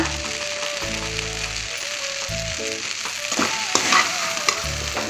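Crumbled leftover idli with eggs fries over high heat while a spatula scrapes and stirs it around the pan, giving a steady sizzle broken by louder scraping strokes, with music playing underneath.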